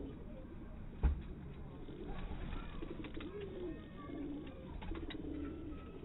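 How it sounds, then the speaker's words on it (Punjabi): Breeder pigeons cooing softly at a pigeon keeper's loft, low repeated coos spread over a quiet background with a faint bump and some rustling, and no clear speech. "ਉਸਤਾਦ ਜੀ ਕਬੂਤਰ ਤਵੱਜੋ ਮੰਗਣ ਡਿਆ ਤੁਹਾਡੀ"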